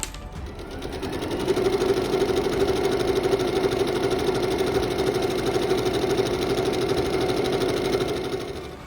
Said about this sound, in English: So now we can start sewing.